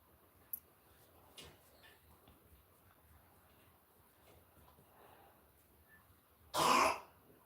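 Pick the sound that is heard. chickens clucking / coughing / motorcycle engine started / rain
coughing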